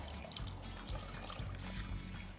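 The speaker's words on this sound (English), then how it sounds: "I'm gonna add a little bit of water." Water pours steadily into a pan of sugar and honey for fig syrup, a close, continuous trickling splash with a few small gurgles, quiet and with no voices.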